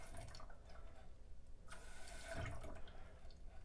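Water running intermittently in a Kohler toilet tank with a low water level, a steady close hiss and trickle that swells briefly in the middle before settling back.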